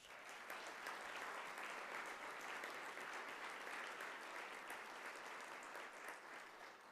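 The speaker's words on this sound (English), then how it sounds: "Let's give her a round of applause" Guests at a community breakfast during Michigan Week in Greater West Bloomfield applaud an award recipient, an even, dense roll of many clapping hands that holds steady for the full stretch, quiet in level and without speech.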